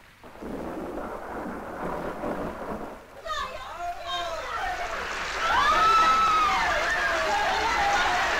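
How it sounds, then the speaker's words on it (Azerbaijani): Steady rain falls in a 1960s outdoor scene, with rolling thunder building loudly partway through while a voice speaks over it. "Yağış yağır."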